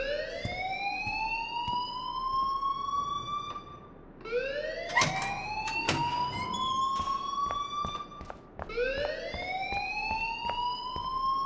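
A rising, wailing alarm siren from the game Life Is Strange sweeps upward in three long, loud repeating cycles, with sharp clanging bursts in between and no talking.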